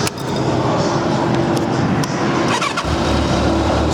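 A Kawasaki Ninja ZZR1200 with a big-bore inline-four cranks for a few seconds over broadband noise, then catches and settles into a steady low idle.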